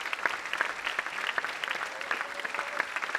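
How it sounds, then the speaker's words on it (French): Film festival audience at Angoulême applauding director Nabil Ayouch, an even, moderately distant wash of many hands clapping with a few sharper claps standing out. "Sous vos applaudissements"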